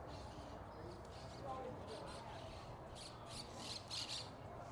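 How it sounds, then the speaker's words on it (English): A flock of birds squawks outdoors at a middle school all-star football game, a few faint, scattered calls toward the end over steady crowd and field background. "Flock of birds. Flock of birds in front of our face."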